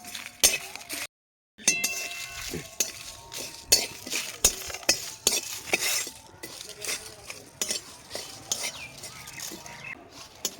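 A metal spoon scrapes and clinks against a pan over and over while dried red chillies, bay leaves and curry leaves fry together, with a short silent gap near the start and irregular close knocks throughout.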